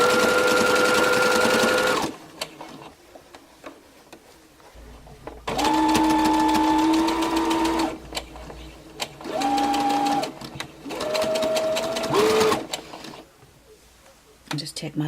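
A sewing machine whirs in several separate bursts as fabric strips are sewn round and round into a flower brooch, each run a loud, even buzzing hum, with quieter pauses between runs where someone talks.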